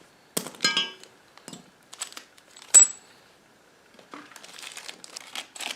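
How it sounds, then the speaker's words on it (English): Bubble wrap crinkles in short, uneven bursts while a motorcycle lift stand is unpacked, with a sharp metallic clink partway through and softer rustling after a pause. "There's the bubble wrap."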